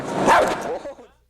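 A frightened dog lets out a short burst of loud, close barking and yelping that snaps into an aggressive lunge, fading quickly; a voice may be mixed in.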